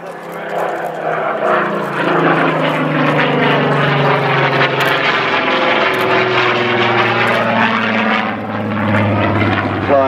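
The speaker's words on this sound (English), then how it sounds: "listen to the music of the Griffin engine" A Spitfire Mk XVIII's Griffon piston engine roars through a flight demonstration, a loud, sustained propeller drone that swells and shifts in pitch as the aircraft passes and banks overhead.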